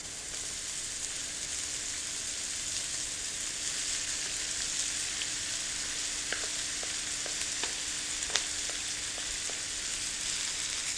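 Shredded cooked ham or Parma ham and noodles sizzling and frying steadily in a hot wok during a Chinese chow mein recipe, with a constant bright hiss and a few faint scraping clicks from stirring, no talk.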